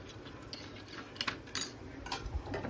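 A spoon scrapes and clinks against a bowl as cashews are stirred with salt and chili powder, giving faint, irregular metallic taps and rattles in a quiet kitchen.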